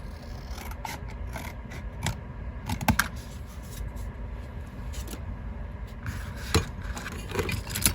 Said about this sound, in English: Let's get these bigger scissors.